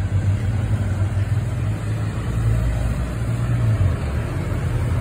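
Motorbike engines idling at a garage where a group of bikers has gathered, a loud, steady low rumble close by with no speech over it.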